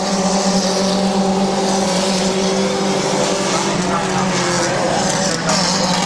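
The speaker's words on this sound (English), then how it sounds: "As Bloom slips up to the top side of the racetrack, that opens the bottom lane for the 42 of Scheffler." Race cars roar continuously around a short oval speedway track, a loud sustained engine drone with steady pitch bands and a commentator talking over the racing throughout.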